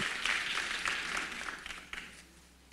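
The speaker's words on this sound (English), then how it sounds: "请各位现场嘉宾为我们讲师带来热烈的掌声鼓励。" Conference audience at an industry forum gives a short burst of warm applause welcoming a speaker, a dense clapping that fades toward the end, with no talk over it.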